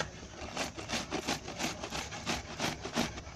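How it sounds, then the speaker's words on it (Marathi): Bottle gourd (dudhi) is grated by hand, making a quick series of about ten soft, rhythmic rasping strokes close by, fairly quiet and steady. "असा किस पडतो हे बघा. हे सगळं असं किसून घ्यायचं."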